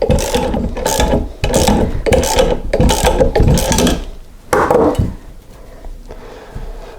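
Nuts are tightened with a ratcheting wrench to pull a steering head bearing off the steering stem of a 1983 BMW R80ST motorcycle, in loud repeated bursts of clicking ratchet strokes, then quieter scraping.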